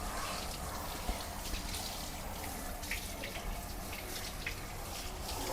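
A tap runs in a steady, close stream while a dog is bathed at a Pet Food Express self-wash station, the water splashing continuously throughout.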